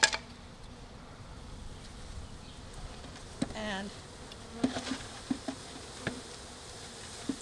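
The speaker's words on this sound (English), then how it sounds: "pour the bees out" Honey bees being poured from a package into a new hive box outdoors on grass, a steady close swarm buzz with individual bees droning past and a few soft knocks.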